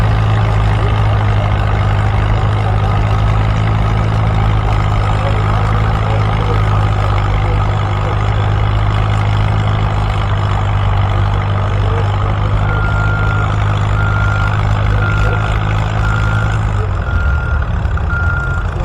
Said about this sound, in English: this tractor is unbelievable the way it pulls